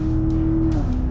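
A Corvette engine hums steadily at a constant idle-like pitch that shifts slightly lower near the end, close and continuous with no talking.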